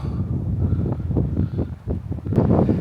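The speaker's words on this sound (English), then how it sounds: "It's windy up here." Wind gusting across an open hilltop in the Australian countryside, a steady broadband rush with rising and falling surges that buffet the microphone throughout, no voices.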